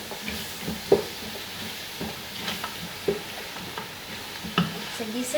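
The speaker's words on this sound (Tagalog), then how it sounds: "gisa-gisa ko na to siya hangtod nga maokay na ang tanan." Ingredients being sautéed and stirred in a pan for a dish of semak with tabbak, a steady frying sizzle broken by a few clinks of a utensil against the pan, close and moderately loud, with no talking.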